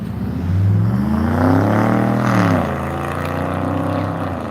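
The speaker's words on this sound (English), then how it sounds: "That's one hell of a BMW." A BMW engine drones loudly as it passes, its pitch rising and falling over a few seconds before settling back to a steady hum.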